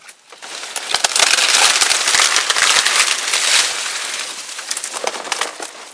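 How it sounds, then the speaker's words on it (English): Footsteps crunch through dry, dead bear grass that crumbles underfoot in a riverside hunting area, a loud, close, continuous crackling and rustling with sharper snaps scattered throughout. "So y'all want to hear what it sounds like when you're walking through this bear grass?"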